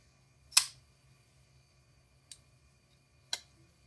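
Three sharp metallic clicks from a Poikilo Tuna pocket knife's thumb stud action, one strong snap followed by two lighter ones, close and crisp against a quiet background.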